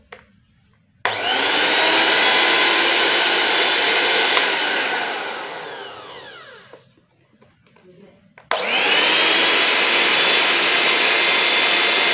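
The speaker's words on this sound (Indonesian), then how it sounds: "blender udah bisa kita fungsikan kembali" A repaired Miyako blender runs loud and steady, winds down to a stop partway through, then starts again sharply at full power after a short quiet gap.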